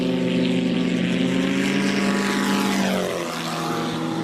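An Auto Gyro 395 autogyro taxiing on a runway gives a steady, loud propeller-engine drone with strong harmonic tones that shift in pitch near the end as the engine changes speed.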